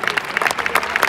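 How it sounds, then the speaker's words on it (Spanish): Applause from the crowd at a ham-cutting contest in Mayorga for the fourth-placed cutter, dense and loud clapping in a short burst. "fuerte aplauso"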